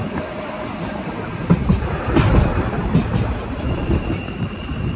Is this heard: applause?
no